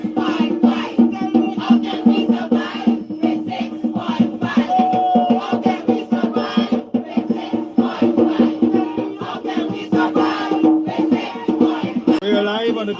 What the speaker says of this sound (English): This crowd has swollen significantly.